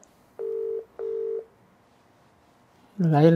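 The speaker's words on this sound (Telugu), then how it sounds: "అన్వేష్ కాల్ కొట్ట ఒకసారి." A phone dials a call, giving two evenly spaced ringback tones with a short gap between them, then a voice comes in loudly at the end.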